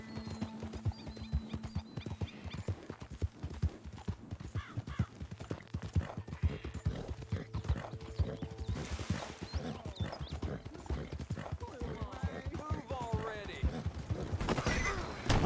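Horse galloping in Red Dead Redemption 2, rapid rhythmic hoofbeats pounding steadily and close, with a brief whinny, under someone talking in German.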